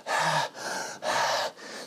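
A voice imitates heavy panting into a microphone: four loud, close, breathy gasps in a steady rhythm with short pauses between them, no words.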